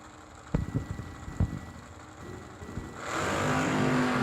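Drag racing cars, a Chevrolet Malibu and a 2021 Ford Mustang, launch with loud engine roar that builds after a few sharp bursts, a steady rising drone filling the last second or so.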